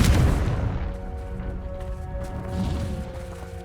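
A Confringo spell explosion in the video game Hogwarts Legacy hits with a loud, deep boom at the start, then a long rumbling decay that fades slowly over several seconds.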